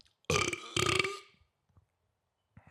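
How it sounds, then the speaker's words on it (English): A loud, long burp from a person after eating spicy ramen, two strong swells lasting about a second, then quiet with a faint sound near the end. "That was a spicy ramen burp."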